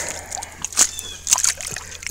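Water sloshes and splashes in short bursts as a knife is rinsed in clean, cold water outdoors, with two louder swishes standing out over faint background noise.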